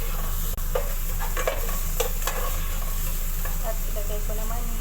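Ginger sizzles in a pan while being stir-fried for chicken tinola, giving a steady close hiss of frying with a few soft stirring scrapes and clinks throughout.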